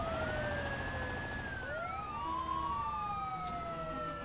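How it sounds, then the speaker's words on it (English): Police sirens in the video game Arma 3 wail continuously, several overlapping tones sweeping up and down, loud and steady over a low rumbling background. "All you hear is sirens,"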